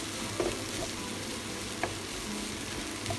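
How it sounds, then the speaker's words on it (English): Onions frying in olive oil in a pan give a steady, dense sizzle throughout, with a couple of faint clicks of stirring, close and continuous. "just gonna put it in a pan with olive oil"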